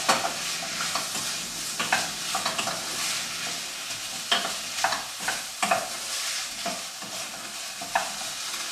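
Vegetables are stirred into a pan for broccoli soup, repeated spoon scrapes and knocks over a steady low sizzle, close and moderately loud.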